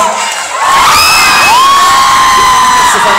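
A large crowd cheers loudly, with high shouts and whoops rising and sliding over a continuous roar, sustained and close throughout after a brief quieter start.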